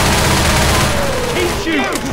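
Gunfire in the video game Left 4 Dead 2, a loud dense burst of rapid shots filling the clip, with a voice and whooshing sounds mixed in toward the end.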